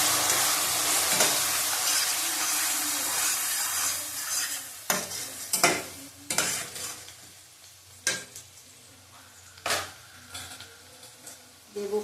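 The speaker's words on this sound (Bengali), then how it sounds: "দেবো হলুদ পরিমাণ মতন, আবার ভালো করে নাড়িয়ে নেবো।" Chicken stirred with turmeric in a frying pan, a steady sizzle running throughout while a spoon scrapes and clatters against the pan in several sharp bursts in the second half.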